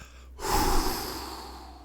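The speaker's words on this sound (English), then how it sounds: "I'm breathing heavy." One heavy breath taken close to the microphone, a sudden airy rush that swells and slowly fades, alone in a quiet indoor room.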